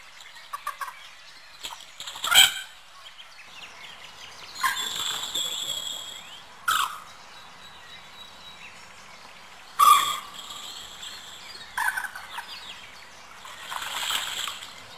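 Common moorhens calling outdoors in a series of short, sharp clucking cries spaced irregularly, some loud and near, with a soft buzz of insects beneath.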